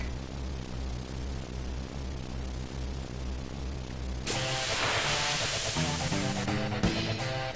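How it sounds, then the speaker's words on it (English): A helicopter takes off in the Final Fantasy VII HD video game, heard as a steady low, pulsing rotor rumble for about four seconds before loud, bright game music and effects burst in and dominate. "While the president takes off in the helicopter."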